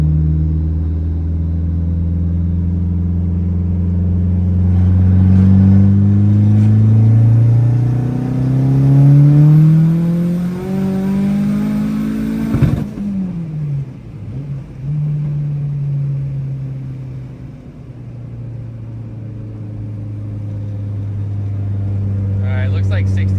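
A big-turbo Dodge Neon SRT4 engine pulls hard at wide open throttle, its loud rising drone climbing steadily toward about 6,800 rpm before cutting off abruptly, then settling back into a lower rumble as revs build again.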